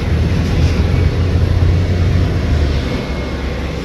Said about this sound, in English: As you can hear the planes taking off from the airport